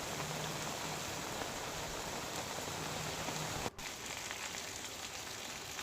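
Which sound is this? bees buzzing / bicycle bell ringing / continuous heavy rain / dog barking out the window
continuous heavy rain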